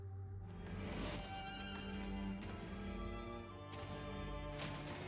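A horse in the fantasy video game Disciples Liberation gives a loud, drawn-out whinny over steady game music, with a second neigh and clip-clopping hooves following.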